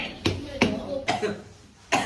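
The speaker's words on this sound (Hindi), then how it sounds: "इसको भी चाय पिलाते हैं, इसको भी खांसी आ रही है" A person coughs four times in short, sharp bursts, close by, with brief pauses between each cough.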